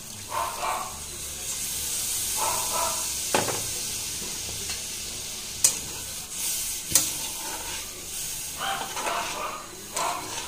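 Coconut milk pours into a simmering fish curry, with soft sizzling, stirring and hissing plus a few sharp utensil clinks, fairly quiet and close.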